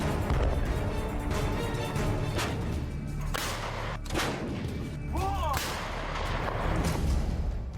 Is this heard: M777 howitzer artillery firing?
yes